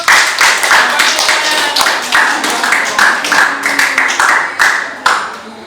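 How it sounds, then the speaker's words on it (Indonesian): A class gives a round of applause, a dense and loud patter of many hands clapping at a fairly even pace. It softens toward the end. "berikan dulu aplaus untuk"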